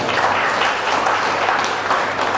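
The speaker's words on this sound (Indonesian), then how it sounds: "Kasih tepuk tangan yang meriah." A church congregation in Surabaya breaks into loud, sustained applause, a dense wash of clapping filling the space without pause.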